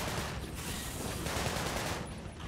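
Rapid automatic gunfire from a weapon in the video game Sunset Overdrive, a dense, continuous burst of loud shots filling the whole moment with no pauses.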